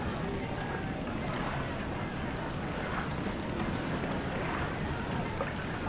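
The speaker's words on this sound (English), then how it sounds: "More sinking sounds" Sinking-ship sound effect from the War in the Pacific: Admiral's Edition video game, a steady rushing roar of water and wind-like noise that stays level and dense for several seconds.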